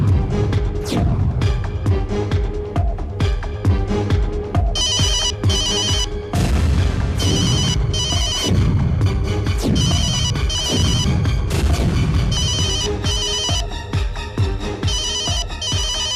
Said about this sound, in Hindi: अब मैं वो टेलीफोन नंबर डायल करूंगा, जिस किसी का भी फोन बजेगा